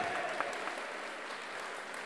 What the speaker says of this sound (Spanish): Que se escuchen esos aplausos para Josmar,